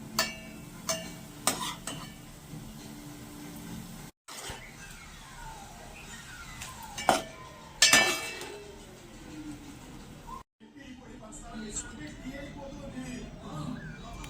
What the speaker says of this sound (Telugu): మనము ఏదైతే క్లీన్ చేసి పెట్టుకుంటామో రొయ్యల్ని దాన్ని వేపేసుకోవాలండి